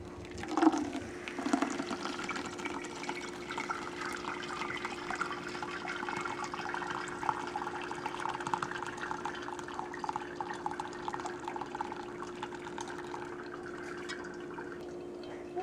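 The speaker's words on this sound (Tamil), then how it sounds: "இப்போ வந்து நமக்கு எக்ஸ்ட்ரா தண்ணி ஃபுல்லாக கீழே வடிஞ்சிருச்சு" Water steadily trickles and drips from milk curds, curdled with lemon juice, through a cloth-lined strainer, a continuous close, soft running sound with a low steady hum beneath and no talking.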